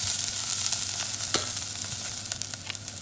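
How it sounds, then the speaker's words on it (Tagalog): Garlic frying in a pan while pork chops in mushroom sauce are being cooked, a dense close sizzle with small pops and a light stirring scrape partway through. "And add the garlic now."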